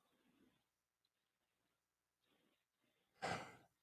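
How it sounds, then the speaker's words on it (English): A caller breathes quietly into a phone line during a live call-in radio show, with soft, faint breaths followed by one louder, sighing exhale near the end. No one speaks. "I can hear you breathing."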